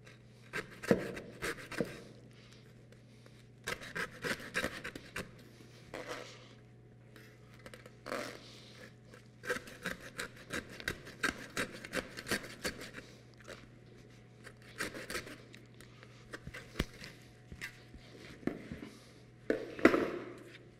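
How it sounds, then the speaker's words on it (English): A handsaw cuts through a pork carcass in repeated rasping back-and-forth strokes, close and fairly quiet, with short bursts separated by brief pauses and a low steady hum underneath. "This is where it's fun with a handsaw"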